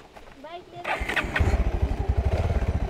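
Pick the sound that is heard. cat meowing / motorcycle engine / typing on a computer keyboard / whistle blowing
motorcycle engine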